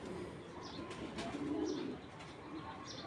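A black checker racing pigeon coos softly in repeated low throaty calls, faint and close, with a few chirps from other birds in the background.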